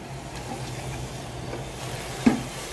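Vermicelli and cardamom being stirred in a pot of boiling water, a soft bubbling hiss with faint scraping stirs and one brief clink near the end, close and quiet, no talking.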